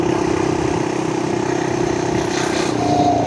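An FRP GMB100 mini bike's small engine drones steadily while climbing a steep uphill, a close, constant buzzing hum that shifts slightly in pitch near the end.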